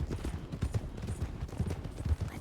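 Horses galloping in a 1904 western setting, a rapid irregular drumming of hoofbeats, fairly quiet and distant, with no speech.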